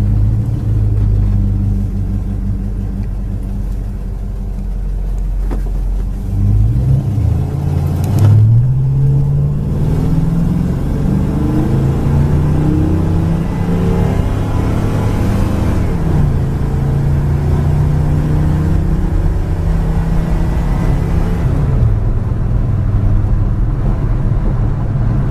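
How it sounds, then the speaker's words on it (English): A white 1972 Oldsmobile Cutlass W-30 with drum brakes and an automatic transmission rumbles steadily, then its engine note climbs and swells as it accelerates down the road, heard close and loud with no talking. "Very quiet, nice running driving car."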